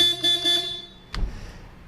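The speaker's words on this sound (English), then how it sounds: "Let's see if this thing will honk." A car horn sounds in two or three short, bright honks, followed by a thump and low rumble.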